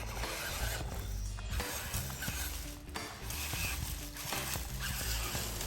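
A New Bright RC Heavy Metal truck drives over rough terrain, its gears and motor whirring under a continuous rattling, crunching clatter from the wheels, heard close and fairly quiet with brief dips in intensity.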